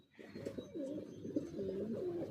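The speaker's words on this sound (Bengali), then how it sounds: "খুব ভালো লাগে যখন কবুতরগুলো বাইরে ছাদের উপরে এরকম বসে থাকে রোদের ভিতরে" Pigeons sitting on a rooftop in the winter sun coo softly and continuously, in a low, warbling murmur that is faint but steady.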